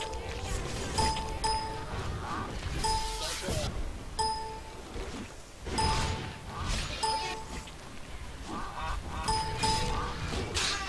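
Honking duck or goose calls repeat through a zone in the video game EverQuest 2, mixed with chiming bell-like pings and game effects, while a player talks over much of it.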